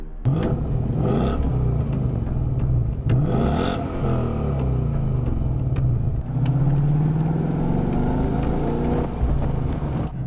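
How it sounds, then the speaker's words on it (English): A 431-horsepower Ford Mustang V8 from 2016 rumbles loudly and steadily up close, its engine note rising and falling with revs, with no voices over it. "That something is the 431 horsepower American Ford Mustang V8, which is designed to look as leery as it sounds."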